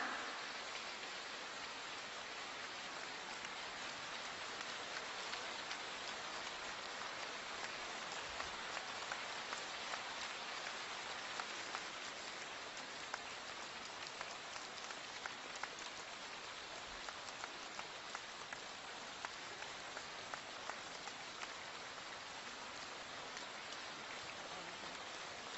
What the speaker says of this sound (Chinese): 让我们用最热烈的掌声恭请我们尊敬的卢军宏台长